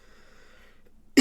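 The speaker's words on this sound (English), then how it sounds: "I've actually had this cough for a few days now" A single sharp cough bursts out near the end after a quiet stretch of faint background noise.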